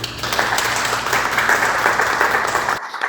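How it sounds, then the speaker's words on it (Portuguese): Studio audience on a Brazilian talk show applauding warmly, a dense, steady wash of clapping that holds at full strength for nearly three seconds and then cuts off abruptly. "eu queria que os nossos convidados aplaudissem a Aline agora."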